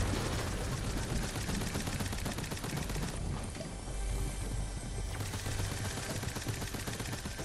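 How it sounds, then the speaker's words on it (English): Dense, continuous gunfire from the video game Fortnite, with rapid bursts and overlapping shots filling the whole stretch at a steady, loud level, along with a short shift in tone midway. "He's shooting my dude."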